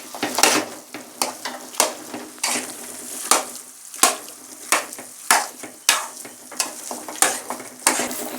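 Semolina halwa with cardamom is stirred in a pan, a spoon scraping and knocking against the metal in a steady rhythm of about a dozen strokes, close and clear over a soft sizzle, with no voices.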